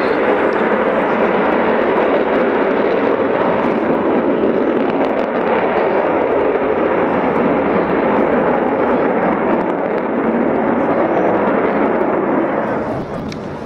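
A loud, steady roar of an Avro Vulcan B2 jet bomber at RAF Waddington fills the air without pause, holding broad and powerful before easing slightly near the end.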